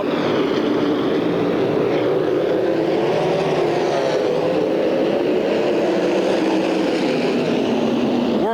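Sprint cars at the USAC Nationals roar past in a continuous, loud engine drone, several cars side by side down the back straightaway into turn three, with a steady high-revving whine throughout.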